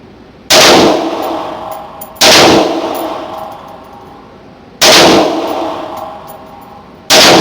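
Four loud rifle shots ring out one at a time at spaced intervals while a rifle is zeroed on a 25-yard target, each sharp report followed by a long decaying echo.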